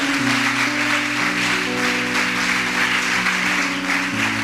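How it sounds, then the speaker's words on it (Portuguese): A church congregation applauds during an evening worship service, the continuous clapping blended with sustained musical tones underneath at a steady level. "Você pode aplaudir o Senhor de todo o seu coração"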